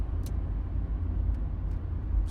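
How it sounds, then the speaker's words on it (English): A Volvo car driving in a video game, a steady low engine and road drone at moderate level with a few faint high ticks, and no talk over it. "It's a Volvo."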